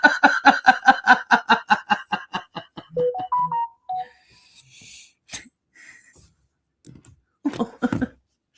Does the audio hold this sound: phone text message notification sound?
yes